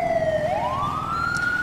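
A police siren wails steadily on a vehicle during a park ranger ATV patrol in GTA 5, the tone sliding down then rising again, loud and close with engine rumble underneath.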